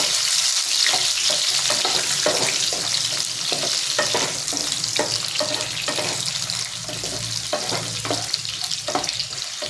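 Par-boiled potatoes frying with whole garam masala and chili, a loud continuous sizzle broken by rhythmic stirring scrapes, close up with no voice.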